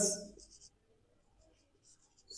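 Marker writing on a board, short squeaky scribbling strokes in a few bursts, faint and close, with a voice speaking at the very start.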